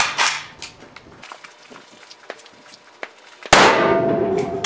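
AK47 rounds in 7.62x39 strike a level 3 titanium steel armor plate stood on end and sandbagged. Sharp metallic clangs and shot cracks ring out, followed by small clicks and handling noises, then a loud distant-sounding report with a long ringing tail.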